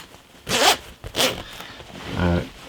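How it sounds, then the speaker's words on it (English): A Buzz Rickson M65 jacket's zipper is pulled in three quick rasping strokes, close and crisp, with no talking. "and zip it up."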